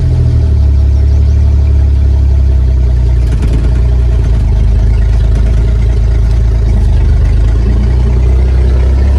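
An International Harvester L-130 tractor engine idles, a loud, steady low rumble with a strong hum that stays even throughout, marked by one brief clatter partway through and no talking.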